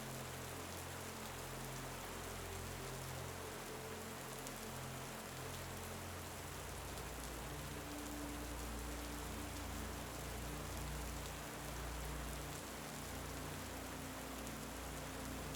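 Steady, even rainfall pattering on a surface, a dense continuous hiss with low rumble underneath, no voices.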